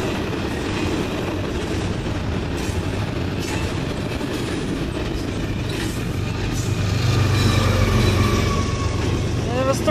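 CN freight train Q198 passing at Ladysmith with its DPU locomotive mid-train, a loud steady rumble with clickety-clack of wheels, growing heavier as the locomotive nears and a faint wheel squeal at the end.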